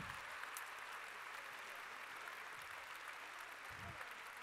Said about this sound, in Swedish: en riktigt stor applåd för Kulturskolans danslust